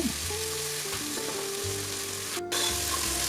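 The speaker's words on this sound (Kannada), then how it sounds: "ಚೆನ್ನಾಗಿ ಫ್ರೈ ಮಾಡ್ಕೊಂಡು ಹಸಿ ವಾಸನೆ ಹೋಗೋರು ಹುರ್ಕೊತಾ ಇದ್ದೀನಿ." Ginger garlic paste frying in oil for mushroom biryani, a loud continuous sizzle with stirring scrapes and low clatter, a short pause near the end before the sizzle resumes, no speech.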